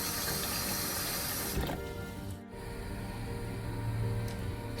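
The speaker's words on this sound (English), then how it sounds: "I'm taking some water to boil the rice for the fish biryani" Water running into a pot for boiling rice for fish biryani, a loud close gushing pour that dips briefly midway, then continues steadily.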